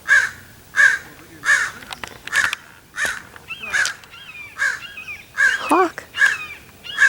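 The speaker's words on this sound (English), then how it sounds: "I can't find that raven." Repeated harsh caws, about a dozen in a steady series, ring out from a raven outdoors, clear and fairly near, with a short lower croak near the end and no talking.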